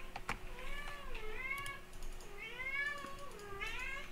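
A pet cat in The Sims 4 meows several times in a row, each call a rising and falling wail, clear and fairly close, with a faint steady hum underneath.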